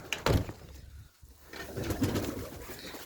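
Tumbler pigeons flutter and coo nearby, with a burst of wing claps at the start and soft cooing and rustling afterwards, no voices present.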